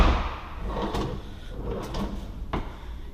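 A kitchen drawer in an empty move-out house slides and bumps several times: soft rolling scrapes, then a sharper knock as it shuts near the end, close and fairly quiet.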